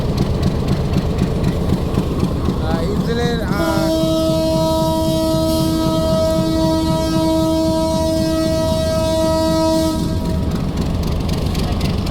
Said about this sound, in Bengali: সিলাটে এক্সপ্রেস ট্রেনটি ছেড়ে দিল